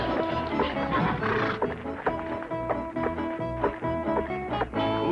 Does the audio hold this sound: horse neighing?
yes